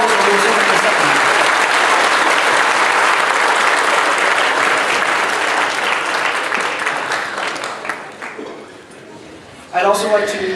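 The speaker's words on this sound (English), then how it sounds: "give a round of applause for Shelby and Vicky, everybody" Loud, sustained applause from the audience at a high school spring band concert fills most of the stretch, thinning toward the end before a voice and a brief burst of cheering return.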